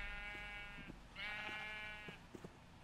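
Two sheep bleats from Minecraft, each a drawn-out wavering cry, loud and close. A few soft clicks and thumps from gameplay come between and after them.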